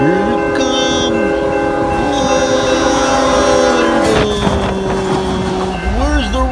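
A lone locomotive engine with no cars races past fast, loud and close, its horn blaring in sustained chords that bend in pitch as it goes by over heavy rail rumble.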